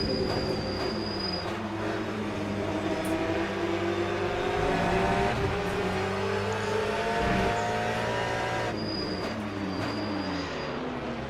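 A Porsche race car engine drones steadily in Le Mans Ultimate at Portimao while running in a slipstream, a sustained tonal whine with shifting harmonics and a faint high squeal, loud and continuous throughout.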